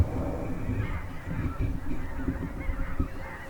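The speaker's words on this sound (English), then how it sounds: "Over there, there's a bunch of geese, like hundreds of them coming." A flock of hundreds of geese passes in several lines, honking continuously in overlapping calls at moderate distance outdoors.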